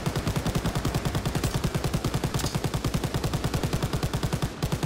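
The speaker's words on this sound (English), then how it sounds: "the magical machine gun that doesn't overheat" In Call of Duty: WWII, a machine gun fires a long, unbroken burst of rapid, evenly spaced shots. The gunfire is loud and close and runs almost the whole time, with no speech.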